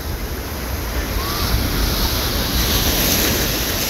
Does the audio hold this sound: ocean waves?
yes